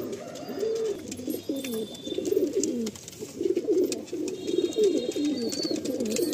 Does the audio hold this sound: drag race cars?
no